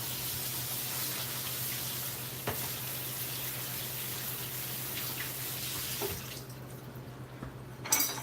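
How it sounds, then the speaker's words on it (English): Tap water runs steadily into a kitchen sink as something gets a quick rinse, a constant close hiss with a soft clunk and a brief clatter near the end. "give it a quick rinse"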